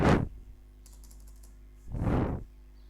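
Two short bursts of typing on a computer keyboard while entering text into Excel, separated by a quiet gap with no one speaking.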